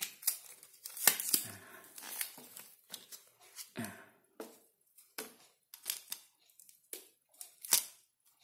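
Scissors snip open the sealed packaging of a 32 GB microSD card, giving a series of sharp, close cutting and crinkling sounds in irregular bursts with short pauses between them.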